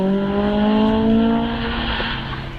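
A Mazda MX-5 races up a hillclimb course at Loton Park, its engine holding a loud, steady, harmonic drone close by for a few seconds before easing slightly.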